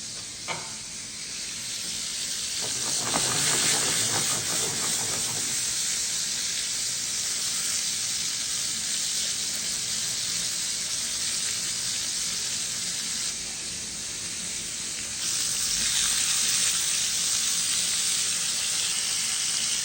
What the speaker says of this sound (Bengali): সুন্দর করে লাল লাল করে ভেজে নিতে হবে